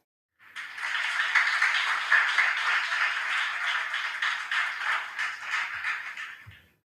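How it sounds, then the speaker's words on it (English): Audience at a junior high school quiz contest giving the competing schools a round of applause, a dense, steady clapping that starts abruptly, holds for about six seconds, then fades out. "Give the schools a round of applause"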